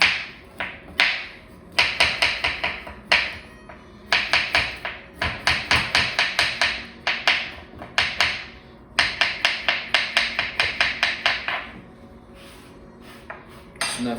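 Knife slicing through ginger on a cutting board, a rapid series of crisp taps in bursts with short pauses between runs of cuts, close and clear.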